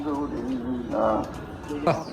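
Soft, low pigeon coos repeat close by, mixed with a person talking over them.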